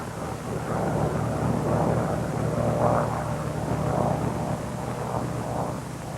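A Bell P-39 airplane landing produces a steady, loud propeller-engine drone and rushing wind noise that holds for several seconds with no voices.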